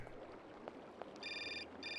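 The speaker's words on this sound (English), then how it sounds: "Oh, phone call." A telephone rings in the video game Syberia, its electronic ring starting partway through in two bursts over a quiet room ambience.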